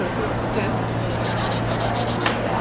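A Vintaj sanding block rubbed over a metal jewelry finding in a steady close scraping rasp, with a quicker rhythmic series of strokes near the end and a low hum underneath.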